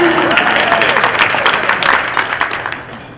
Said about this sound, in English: So we can do the clap now.